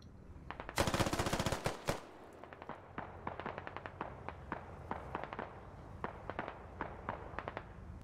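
Rapid automatic gunfire in the military shooter game SquadOps: a dense, loud burst of full-auto fire, followed by a steady run of sharp single and paired shots spaced irregularly over several seconds.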